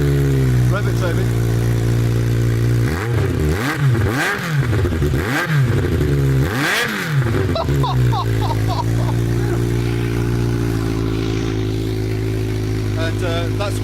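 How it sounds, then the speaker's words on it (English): A motorcycle engine idles close by, then is revved in several sharp rising and falling bursts before settling back to a steady idle, with voices talking over it. "Rev it, Toby."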